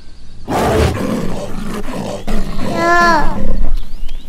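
A leopard roars loudly and close, a rough, harsh bellow that rises into a strained, wavering cry and holds through to the end, with no talk.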